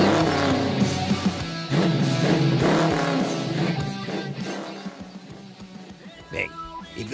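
Car engines rumbling and revving at a car show, loud at first then easing off, with voices speaking over them.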